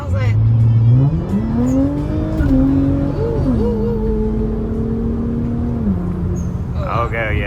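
Infiniti Q50 Red Sport AWD with the VR30 twin-turbo engine and newly installed downpipes revs up and holds a loud, droning pitch. Engine note rises, plateaus, then drops over several seconds, with brief voices at the end.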